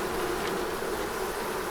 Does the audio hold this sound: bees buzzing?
yes